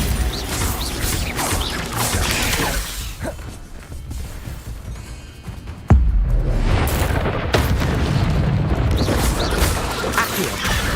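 Bombarda spell explosions sound in Hogwarts Legacy, loud booms and crashing bursts with whooshes and debris, one sharp impact standing out midway, over continuous dense combat noise.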